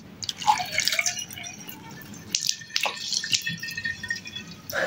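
Sweet tea poured through a strainer for kombucha, giving trickling, dripping liquid sounds in uneven bursts up close, with a fuller splashing pour near the end.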